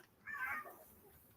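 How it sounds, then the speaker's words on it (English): A house cat gives a single drawn-out meow nearby indoors, moderately loud and clear against a quiet room. "The cat is like meowing over here."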